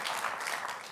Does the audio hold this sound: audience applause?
yes